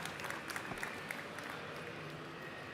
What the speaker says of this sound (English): Let's hear it for Parker Retzlaff